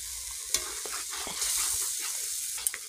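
Onions sautéing with a little turmeric in a pan make a steady close sizzle, broken by a few sharp scrapes and clinks as a spoon stirs them.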